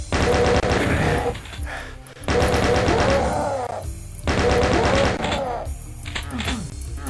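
Rapid bursts of chaingun fire from chaingunner enemies in the Doom game, three long loud rattling volleys separated by brief pauses, with dense repeated shots and impacts filling the soundscape.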